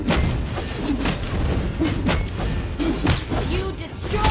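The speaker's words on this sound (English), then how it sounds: "Your team destroyed the turret." A turret being destroyed in the video game Mobile Legends: several heavy thuds and crashing impacts in quick succession amid busy game noise, loud and close.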